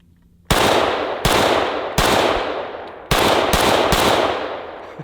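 Steyr AUG rifle fired outdoors, six sharp loud shots in an uneven sequence, each followed by a short decaying echo.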